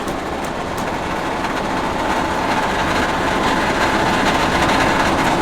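Fire tender engine pump running dry as it starts to draft water from a pond, a steady loud broadband roar and hum that holds constant throughout with no speech.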